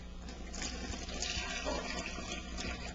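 Water poured into bread dough in a mixer bowl with margarine for a Brazilian tiger bread, a steady broadband splashing gush lasting throughout, fairly quiet with no talking.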